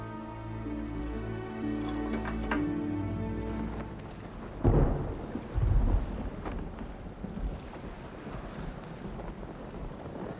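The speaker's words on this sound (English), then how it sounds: "Hearing that thunder?" Thunder rolling through a rainstorm: a steady wash of rain and low rumble, then heavy, booming cracks about halfway through that fade back into rumbling.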